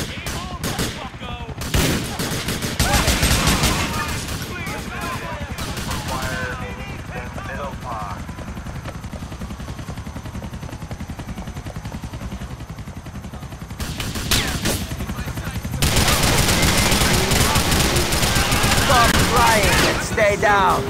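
Rapid gunfire bursts from a police shootout in Grand Theft Auto IV, with dense crackling volleys at the start, a quieter stretch of scattered shots, then loud sustained automatic fire near the end, mixed with game voices and effects.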